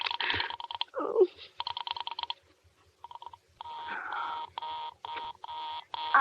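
A telephone busy signal in a CBS radio mystery drama: short electronic tone bursts repeat in a quick, steady on-off pattern, fairly loud and up front, with brief gaps between groups.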